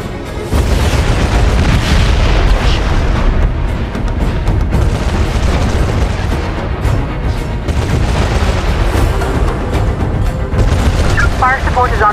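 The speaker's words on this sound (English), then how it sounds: "Airstrike inbound." Airstrike explosions in the military shooter game Socom 4: Special Forces roll in as a continuous loud wall of deep booms and blasts, with dense rumbling that barely lets up throughout.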